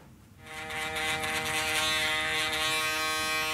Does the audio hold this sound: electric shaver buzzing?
yes